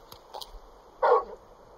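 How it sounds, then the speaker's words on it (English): A large dog in the Final Fantasy XVI video game gives a couple of short soft yips followed by a single louder bark, close and clear with no talking over it. "You're just a big puppy, aren't you?"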